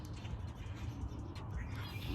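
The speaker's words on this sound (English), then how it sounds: "Sorry for the bird chirping. Shut up, birds." Small birds chirp outdoors, light scattered calls half buried under steady wind-like rumble and background noise.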